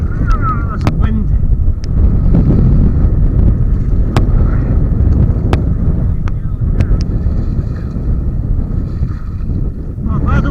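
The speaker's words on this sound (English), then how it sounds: "That's wind." Strong wind buffets the microphone on the River Clyde during sea kayaking, a loud continuous low roar with occasional sharp knocks. Voices are faintly heard beneath it.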